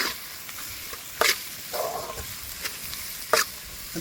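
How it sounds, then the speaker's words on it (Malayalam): Vegetables with chili flakes, salt and pepper are stirred in a hot pan. A low sizzle runs underneath a few distinct scraping strokes of a utensil spaced across the moment. "നന്നായിട്ട് ഇളക്കി കൊടുക്കുക"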